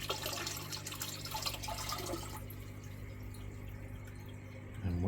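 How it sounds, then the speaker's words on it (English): Water containing live Daphnia poured into a fish tank of baby Bosmani rainbowfish, a steady splashing pour that tapers off into quieter trickling and dripping, close by and with no talking. "And we'll pour in the Daphnia."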